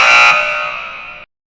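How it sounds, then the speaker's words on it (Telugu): A single loud electronic quiz-show buzzer on a Telugu TV game show blares for about a second, strongest at the onset, then fades slightly before cutting off abruptly into silence. "first buzzer వచ్చేసారండి"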